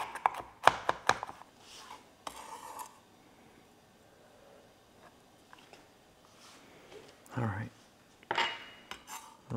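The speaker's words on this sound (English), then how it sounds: "the best way to get the onion flavor minus the texture of it is to mince them" Kitchen knife mincing onions on a cutting board, quick bursts of close, crisp chopping taps up front, then a quiet stretch and a few scraping, rubbing strokes later on.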